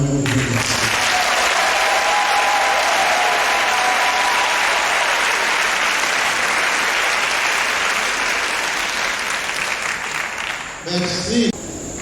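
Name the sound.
applause for Cardinal Agré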